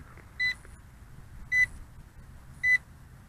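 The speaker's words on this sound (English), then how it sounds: "Now I have beeping going on my remote control." A drone remote controller gives three short, evenly spaced beeps during return-to-home, close and distinct over a faint background hiss.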